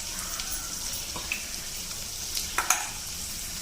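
Asafoetida dropped into hot oil already crackling with garlic and ajwain, giving a soft steady sizzle with a few brief louder pops and spatters, no voices.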